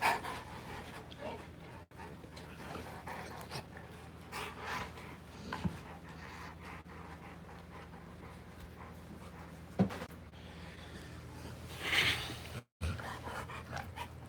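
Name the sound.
pit bull father and son dogs playing, panting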